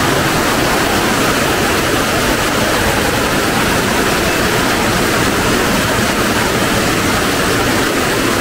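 A waterfall and river in Palawan roar as a loud, constant broadband rush of falling water, steady and unbroken, with no voices present.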